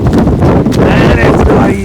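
Strong wind buffets an umbrella on a rainy walk, making a loud, constant rumbling roar against the microphone with flapping and gusting throughout.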